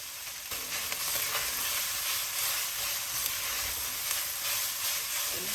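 Garlic sautéing in a pan for Mexican chili, a steady bright sizzle with occasional stirring scrapes, close and continuous without talk.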